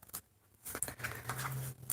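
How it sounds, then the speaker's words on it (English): Quick, close scraping and flicking of paper trading cards being shuffled back into a deck by hand, soft brushing rasps and riffles in short bursts. "Shuffle the other 2 cards back into my deck"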